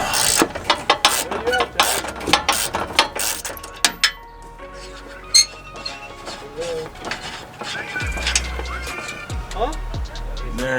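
A ratchet spins off bumper bolts near the fog lights of a Jeep Wrangler during a Smittybuilt bumper install, in quick bursts of sharp clicking with pauses, while people talk over the work.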